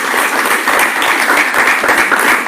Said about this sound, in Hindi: जोरदार तालियों के साथ उनका स्वागत करें।